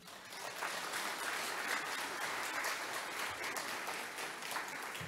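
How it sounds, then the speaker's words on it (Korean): A church congregation applauds to welcome a pastor at an early-morning service, a steady dense wash of clapping that holds at even loudness throughout, with no voices over it. "다시 한번 우리 손인신 목사님 나오실 때 큰 박수로 환영해 주시기 바랍니다"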